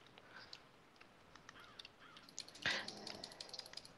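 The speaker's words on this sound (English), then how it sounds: "That crow sounds vicious." A crow in the Minecraft video game caws loudly once, a sharp harsh call standing out over quieter game sounds and faint scattered noises.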